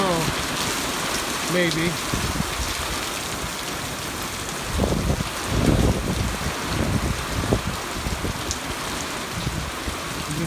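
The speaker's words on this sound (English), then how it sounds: "I guess in a way I'm glad this is rain" Steady rain falling outdoors at a corral on a windy day, a constant hiss of drops on surfaces with a few heavier thuds, while a person speaks briefly partway through.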